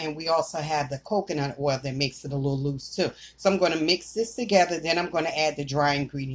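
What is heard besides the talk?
None of the usual background noises is heard.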